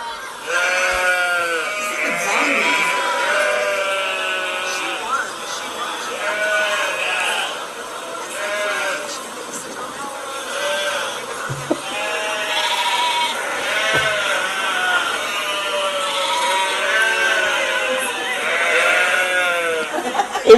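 Several sheep bleat over and over in wavering, overlapping cries, steady and fairly close, with a faint murmur of background noise.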